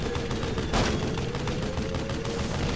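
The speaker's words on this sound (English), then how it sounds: "I hear guns going off and everything" Rapid bursts of gunfire crackle through a video game battle in Assassin's Creed Syndicate, dense overlapping shots forming a steady fusillade with one louder blast near the start, continuous over game ambience.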